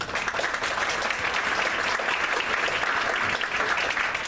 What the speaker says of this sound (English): So I just wanted to applaud them all for that.